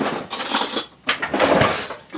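Metal cutlery clinks and rattles in bursts as a spoon is pulled from a utensil drawer or holder in a home kitchen, loud and close with a brief pause between.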